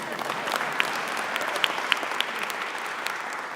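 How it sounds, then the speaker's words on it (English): Audience applause at a retirement policy event, honoring a legislative assistant to a senator; steady, moderately loud clapping from a crowd with a few sharper individual claps standing out. "He deserves a round of applause"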